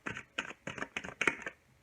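Tarot cards being shuffled by hand, a series of crisp riffling bursts in an even rhythm, close and fairly soft, with no talking.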